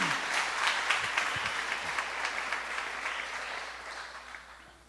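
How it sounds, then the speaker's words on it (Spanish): A church congregation gives the Lord a hearty round of applause, a dense patter of many hands clapping that slowly fades over a few seconds, with no one speaking. "Dale un fuerte aplauso al Señor."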